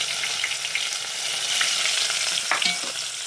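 Chopped onion drops into hot oil with cumin seeds and fries with a loud, dense, steady sizzle close by, with faint stirring under it and no talking.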